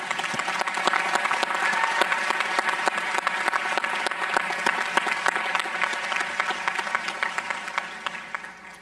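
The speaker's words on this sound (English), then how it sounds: "Can we have a round of applause for all the friends and family who are here today or are watching online?" Applause for friends and family at a university iSchool graduation ceremony, a full hall of steady clapping with individual claps standing out, continuous and moderately loud, tapering slightly at the end.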